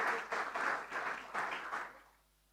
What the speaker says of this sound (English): Clap again, guys